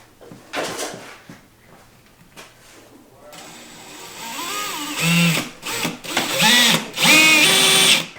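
A power drill bores holes through the plastic body of a brand-new 2024 Ski-Doo Summit Gen 5 Adventure sled for a bumper install, whining in short rising bursts that grow louder and closer toward the end, with faint speech early on.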